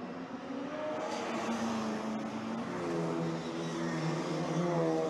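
MG MGB race cars and a Mini racing at the Circuit des Remparts, engines droning loudly and continuously with rising and falling harmonics as the pack circulates at middle distance.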